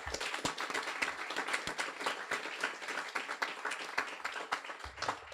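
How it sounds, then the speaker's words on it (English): A guide dog school graduation audience gives a round of applause for a volunteer, scattered individual claps distinct within a thin, fairly quiet patter that stays uneven throughout. "give him a round of applause"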